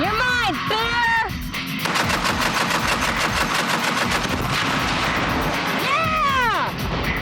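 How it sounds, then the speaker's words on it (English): Browning 1919 air-cooled .30 caliber belt-fed World War II machine gun firing at roughly 850 rounds a minute, a loud rapid continuous burst with sharp cracks and a brief pause, with excited voices shouting over it. "It's World War II belt-fed automatic. It's an air-cooled 30 caliber machine gun."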